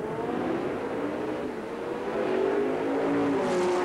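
BMW race car and other cars pulling away at a race start, engines revving and whirring with rising tones, a moderately distant blend of several accelerating cars that swells toward the end.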